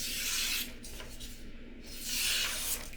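A Kubey Hamster knife with a 14c28n blade and hollow grind slices in two quiet, close hissing strokes separated by a brief pause.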